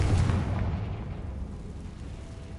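A Confringo blast spell from Hogwarts Legacy goes off as a loud, low rumbling boom at the start, then a long roar that slowly fades away.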